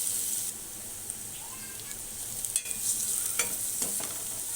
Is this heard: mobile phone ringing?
no